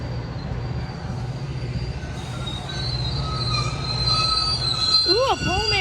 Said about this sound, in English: there's a green for the Metra to proceed